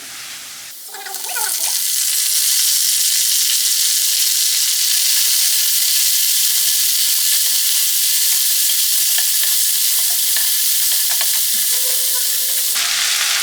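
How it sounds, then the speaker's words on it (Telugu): Chopped onions and gongura leaves fry in a pan for meal maker gongura pulao, a loud, steady hiss and sizzle that lasts nearly the whole clip, with faint stirring scrapes. "ఈ ఉల్లిపాయ ముక్కల్ని మంచి కలర్ వచ్చే వరకు ఫ్రై చేసుకుందాం మంచిగా ఫ్రై అయిన తర్వాత ఇప్పుడు ఇందులో మనం గోంగూర వేసుకుందాం"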